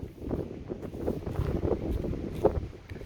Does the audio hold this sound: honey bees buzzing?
no